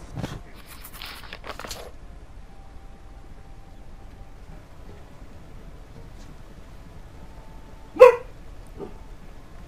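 A dog in the Metro: Last Light game gives a short burst of barks and yips near the start, followed by a long quiet stretch and one more sharp bark later on.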